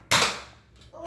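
A single sharp pop as a Nerf Elite 2.0 Trio TD-3 blaster fires indoors, close and loud, followed by a brief rustle and the start of a voice.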